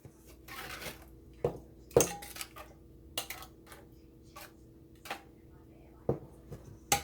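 A utensil scrapes and clinks against a bowl as drained canned peaches are stirred, with irregular sharp taps spread over several seconds against a quiet kitchen background.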